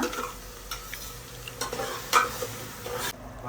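Two tomatoes ground into a paste sizzle in a pan while being stirred, the frying hiss steady and close with scraping stir strokes throughout and no voices.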